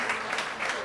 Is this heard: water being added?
no